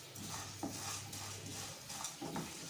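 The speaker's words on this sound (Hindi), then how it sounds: "1 मिनट हो गया मुझे इसको रोस्ट करते हुए बिल्कुल लो फ्लेम पर" Whole spices for garam masala dry roasting in a pan on a very low flame, soft continuous rustling and light scraping as they are stirred, quiet and close with no talk.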